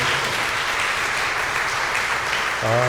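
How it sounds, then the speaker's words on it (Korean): A church congregation applauds the choir during a Korean service, an even spread of clapping that fades as a voice begins to speak at the end. "우리 에베네세 찬양대 그리고 박혜연 집사님 박수 한번 드리겠습니다."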